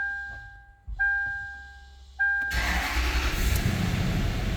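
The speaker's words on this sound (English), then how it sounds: "Let's go ahead and see how this thing cranks." A Toyota 4Runner, bought broken down and fitted with a used battery, with a steady chime ringing, then a brief crank as the engine fires and settles into a loud, close idle.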